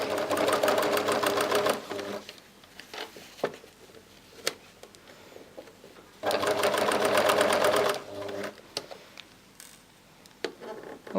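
A sewing machine runs in two quick bursts as it stitches a fabric scrunchie seam, with a rapid, even mechanical whir broken by short pauses, small clicks and handling noises.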